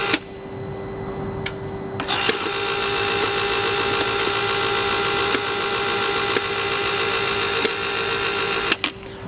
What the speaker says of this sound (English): So the bleed procedure is starting. I'll put my microphone up to the gearbox so you can hear it.